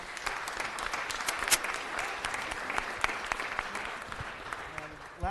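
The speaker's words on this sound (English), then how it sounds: "Can we have a big round of applause for them?" A crowd at a city council meeting claps steadily for several seconds, a dense patter of applause with a few louder claps standing out.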